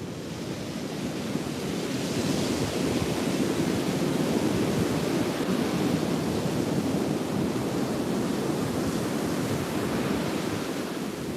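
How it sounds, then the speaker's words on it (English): Ocean surf and gusty wind at a beach, a steady broad roar of breaking waves mixed with wind buffeting the microphone, loud and continuous throughout with no speech. "Oh, the ocean is louder than the wind, huh?"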